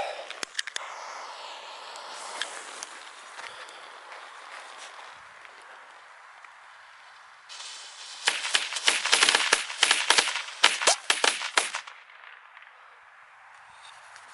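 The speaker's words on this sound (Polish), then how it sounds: "Teraz 20-strzałowy karabinek." A 20-shot consumer firework cake from a New Year's set fires in a rapid burst of sharp cracking pops lasting several seconds, loud and close after a quieter stretch of background hiss.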